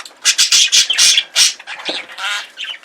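A pet bird squawks in a rapid run of harsh, loud calls close by, with short chattering bursts and brief gaps between them.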